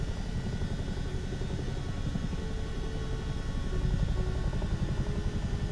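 A simulated CH-47 Chinook helicopter flying over Myanmar in Microsoft Flight Simulator 2024, producing a continuous loud rotor thump and engine drone that swells slightly toward the end, with no talking.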